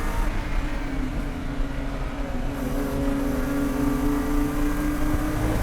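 Race car engine at Lime Rock Park during a Gridlife GLTC race, droning loud and close with a sustained rising tone as it accelerates along the straight, alone without speech.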